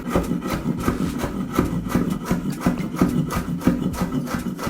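A knife chops green pepper finely on a cutting board, producing rapid, evenly spaced close taps and scraping strokes in a steady rhythm.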